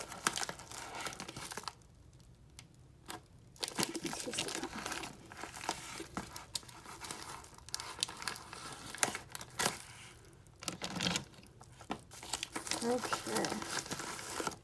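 Plastic packaging crinkles and rustles close up as a package is opened during an unboxing, with intermittent crumpling bursts and quiet pauses throughout.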